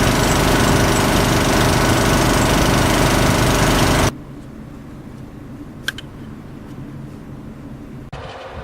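Vehicle engine with a newly installed smaller alternator belt runs loud and steady for about four seconds, then continues as a quieter, distant drone with a brief click near the end.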